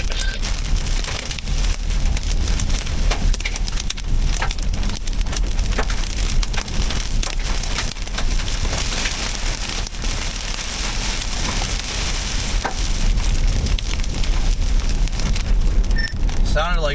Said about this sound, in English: Just the random hailstones falling.